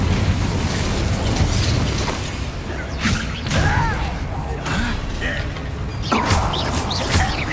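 An Incendio fire spell cast during a Hogwarts Legacy battle, loud whooshing fiery bursts and crackling blasts repeating over a dense, noisy combat backdrop with occasional voices.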